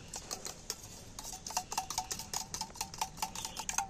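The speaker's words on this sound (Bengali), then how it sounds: "এখানে আমি একটা বাটি নিয়েছি আর একটা ডিম নিয়েছি, ডিমটাকে আমি একটু ফাটিয়ে নিচ্ছি।" An egg being beaten in a bowl for a fish roe recipe, a quick run of light clinking strokes that speeds into a steady ticking rhythm, close and fairly quiet.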